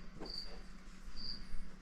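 Crickets chirp in two distinct, high, clear trills spaced about a second apart over a low background hum, with no one speaking.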